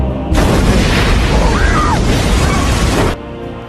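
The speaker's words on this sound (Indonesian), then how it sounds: "Tiba-tiba saat itu truk Chris meledak" A truck blows up in a film scene with a loud, sustained blast and rushing, crackling roar that lasts about three seconds before cutting off abruptly.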